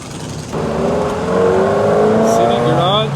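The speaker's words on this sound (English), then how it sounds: "This is a Ford with a V8 in it." A Ford car with a V8 engine runs on a town street, a steady rising engine drone that swells and holds loud, with a faint higher whine and a short chirp near the end; people talk faintly in the background.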